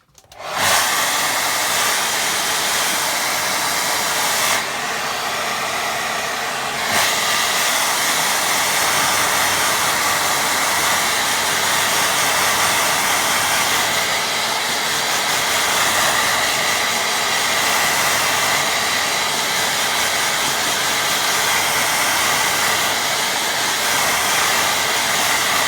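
A hair dryer blows steadily and loudly over a watercolour painting of buildings and fields, a constant close airy roar that runs almost unbroken, with one brief dip in pitch partway through.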